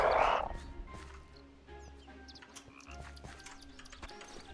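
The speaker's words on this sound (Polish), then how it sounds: "są też różnokolorowe te żaby" Frogs croak in the Minecraft video game, one loud close croak at the start followed by quieter, scattered croaks and soft game ambience, with no speech.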